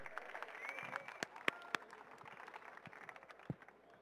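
Audience applause at a PC case modding contest prize giving, scattered claps and crowd noise rising after a winner is announced, moderately faint and mixed with a distant voice.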